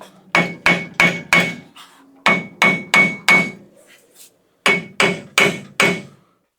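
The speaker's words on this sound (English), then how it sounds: "I'm going to get a heavier mallet and bonk on this hat" Heavy mallet pounding a rusted hub hat on a 1999–2006 Chevy Silverado 2500HD with a 14-bolt full-floater rear axle: loud, close metallic bonks in three quick bursts of four strikes, each separated by a short pause.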